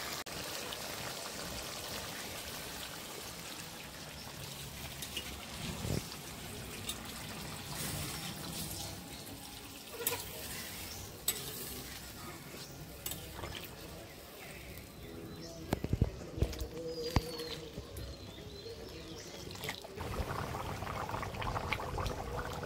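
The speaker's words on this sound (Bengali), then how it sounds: "এই শব্দটার সঙ্গে বিরাট পরিচিতি আমরা, মাংস রান্নার শব্দ কাঠের জালে" Khaki Campbell duck meat cooks in water over a wood fire, a continuous bubbling, gurgling simmer heard close, with occasional clunks and a few faint bird calls in the background.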